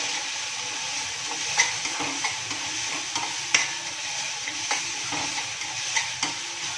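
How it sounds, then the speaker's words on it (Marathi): Masala being sautéed and stirred in a pan while cooking a potato bhaji, with a steady soft sizzle and occasional clicks and scrapes of a spoon against the pan, close and fairly quiet, no talking. "आता हा जो मसाला घातलेला आहे तो परतून घ्यायचा आहे"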